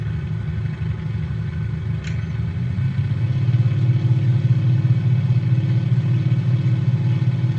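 Aircraft engine in a flight simulator game powering up on a runway with brakes held, a loud droning rumble that rises and thickens after a few seconds and holds steady, no talk.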